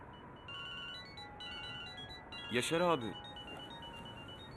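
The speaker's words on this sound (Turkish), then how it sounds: "Telefonun çalıyor." A phone ringtone chimes in a repeating electronic melody, with a man briefly calling out partway through.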